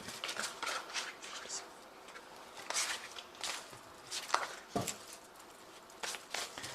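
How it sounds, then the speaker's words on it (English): Soft, close card shuffling with scattered papery taps and rustles at an uneven pace, fairly quiet against low background noise. "I have shuffled this deck."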